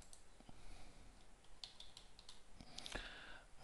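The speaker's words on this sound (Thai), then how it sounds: "เสร็จเรียบร้อยแล้วพิมพ์ครับ" Quiet, irregular clicks of a computer keyboard as text is typed, the individual keystrokes soft and close with short pauses between them.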